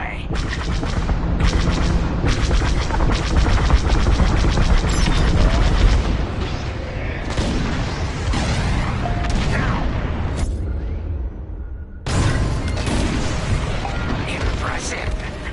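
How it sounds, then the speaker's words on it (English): Bombs drop and explode continuously in the Star Wars Squadrons space-combat game, a loud, dense roar of booms and blasts mixed with engine noise and brief radio voices. "On my mark, it's bombs away."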